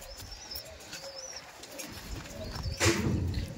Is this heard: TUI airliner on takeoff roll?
no